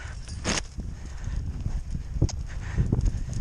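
Hooves of young colts thud and clop irregularly on the dirt of a round pen, a few louder close steps among softer shuffling, with faint background noise.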